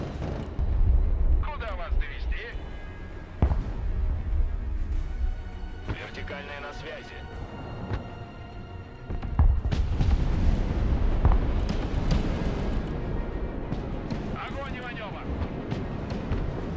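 Gunfire and heavy booming in the war strategy game Broken Arrow, with shots fired from a bridge, sounding as repeated loud blasts and rumbles over a dense battle din while a voice talks.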